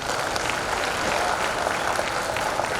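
Sustained audience applause at a building inauguration ceremony in Kashi, dense steady clapping from a crowd filling the whole stretch without a break.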